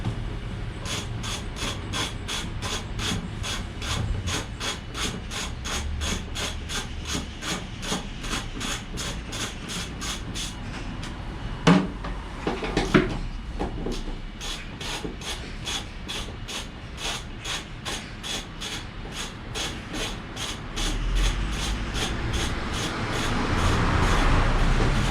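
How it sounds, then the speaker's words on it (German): A 13 mm socket ratchet undoing the bolts of a van partition wall gives a fast, even series of close clicks that runs on for many seconds, with a short pause and some rubbing midway before the clicking resumes. "Jetzt nehme ich die 13er Nuss und fange unten an, die Trennwand abzuschrauben."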